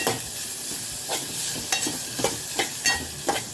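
Sliced onion sautés in a pan with a continuous sizzle, broken by soft scraping strokes of a spatula every half second or so.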